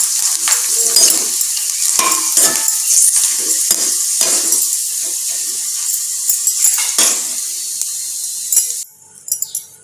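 Onion vadam sizzling and crackling steadily in hot oil, with stirring clinks of a ladle against the pan, the frying loud and close before quieting near the end.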